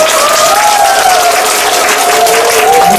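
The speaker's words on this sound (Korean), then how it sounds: "여러분의 힘찬 박수와 함께" Loud, dense applause from a crowd at an election campaign office opening ceremony runs unbroken for three seconds, with a sustained tonal hum, likely music or feedback, underneath and no speech.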